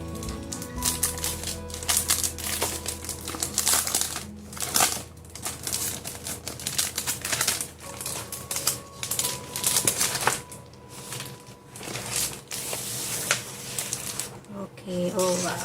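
Packaging of an A4 designer decoupage paper set is torn and crinkled open in a steady stream of rustles and crackles, with someone talking over it throughout.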